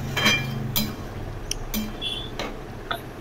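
Curry with prawns, potato and ridge gourd in poppy-seed paste, stirred in a pan and then covered with a lid, heard as light metallic clinks and taps spaced irregularly, close and fairly quiet.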